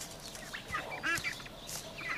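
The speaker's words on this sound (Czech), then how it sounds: "Tady jsou ještě husy." Farmyard geese honk and call in several short, overlapping bursts at moderate distance, with general fowl chatter around them and no talk.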